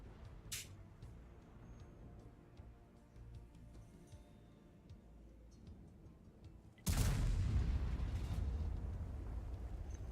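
A self-propelled artillery gun fires in World of Tanks: one loud, heavy boom hits abruptly and then rolls into a long, sustained rumble. Before it there is a quieter stretch of low engine-like drone.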